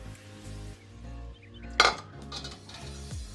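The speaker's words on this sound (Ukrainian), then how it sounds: "Готовий маринад розливаємо по баночкам." Ready marinade for zucchini in tomato chili sauce is ladled into glass jars in a kitchen, giving soft clinks and scrapes of a metal ladle against glass, with one sharp, louder clink midway.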